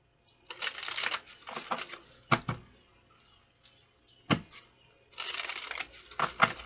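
Tarot cards are shuffled in several bursts of riffling and flicking, with brief sharp taps of the deck between them and quiet pauses, all close and fairly soft.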